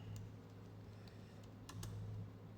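Soft, quick taps of typing on a computer keyboard, faint and close, with a few slightly sharper keystrokes standing out against a quiet room hum.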